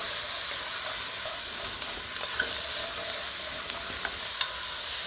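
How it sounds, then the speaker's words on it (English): Beef short ribs searing over medium-high heat in a hot pan, a continuous hiss and sizzle with scattered scraping and stirring clicks as the meat is moved around, no voices. "we're gonna just give these a little stir in that heat"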